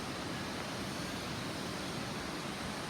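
Sinulom Falls in Cagayan de Oro, a dense, even roar of rushing water with no breaks, loud and enveloping, with nothing else standing out.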